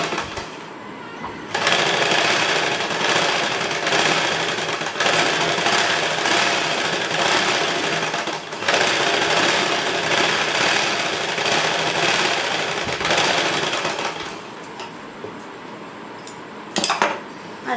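Sewing machine running in long steady bursts while stitching a lining blouse, a fast close mechanical whirr with brief stops and a faint clink near the end, no talking.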